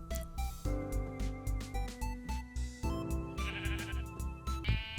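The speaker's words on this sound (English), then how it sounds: "Sheep!" Sheep in the Minecraft video game bleat repeatedly, a series of short, evenly spaced bleats over a game backdrop, fairly close and clear.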